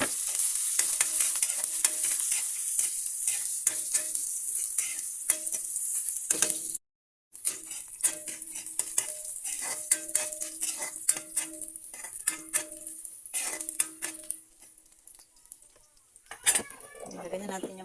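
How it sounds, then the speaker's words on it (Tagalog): Onion and garlic sautéing together in a pan, a bright continuous sizzle with repeated scraping and clinking of a metal spatula stirring, briefly cutting out midway before resuming. "gisain natin ng maayos mga sis para lalabas yung kanyang aroma"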